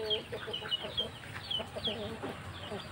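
Pelung chickens kept in a raised coop at a poultry farm in Cianjur, West Java, cluck and call in short repeated bursts at moderate distance, with light talk and outdoor noise around them.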